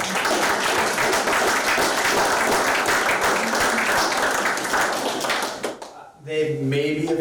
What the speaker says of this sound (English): join me in just giving them a round of applause